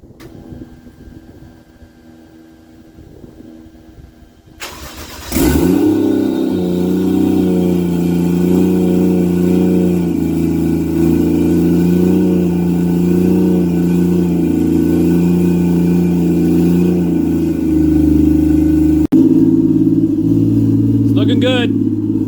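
Toyota 1JZ engine swapped into a Chevy Nova cranks and fires up, then settles into a loud, steady idle with a few light revs. A faint voice is heard before the start, and the engine cuts off near the end.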